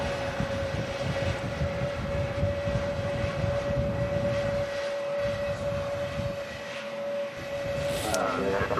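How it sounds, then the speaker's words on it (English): Turkish A321neo jet touching down at Manchester Airport in strong gusts, a steady roar with a sustained engine whine throughout, heard from a distance. "Turkish Neo as well, touching down"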